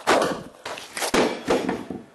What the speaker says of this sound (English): Bigger hammer time.